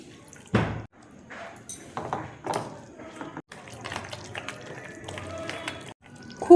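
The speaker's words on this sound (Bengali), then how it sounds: "অল্প করে দেখো জল দিয়ে দিচ্ছি।" Water is poured in small amounts into a bread batter mix of salt and other ingredients, giving close, wet drips and splashes with light squishy mixing sounds. Brief bits of background talk are heard.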